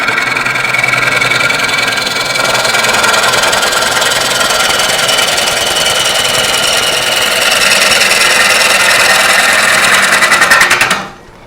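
A wood lathe roughs out a cherry bowl, loud continuous scraping and rumbling as the gouge bites the spinning blank, a steady rough chatter that runs without pause, then cuts off as the lathe stops.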